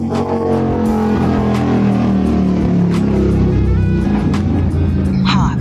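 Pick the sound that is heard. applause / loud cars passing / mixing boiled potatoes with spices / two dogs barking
loud cars passing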